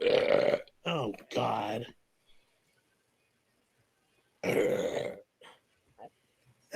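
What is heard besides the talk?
a man burping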